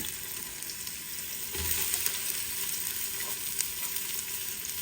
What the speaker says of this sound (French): Sinon, vous en mettez un gros que j'ai coupé en lamelles. Je vais les faire revenir un petit peu.